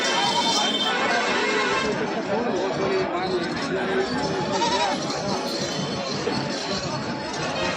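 Goats bleat amid a busy goat market in Kalpi, Uttar Pradesh, with several calls rising over constant crowd chatter and nearby talking voices.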